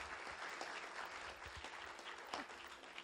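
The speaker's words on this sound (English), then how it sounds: "If we could give a round of applause to Juliana Walsh and Kevin O'Connell" Crowd applause at a community street event honouring musicians, a continuous wash of clapping hands heard from some distance, moderately quiet, with a few sharper individual claps standing out.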